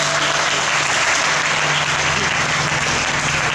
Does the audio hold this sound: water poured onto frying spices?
no